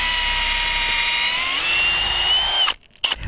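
A power drill whines loudly as its bit bores through roof plywood into a stud while solar panels are installed; the pitch shifts under load, then the motor cuts off and briefly restarts.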